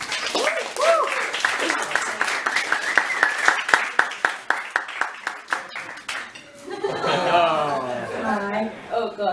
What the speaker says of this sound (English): So, a big round of applause for Zoshii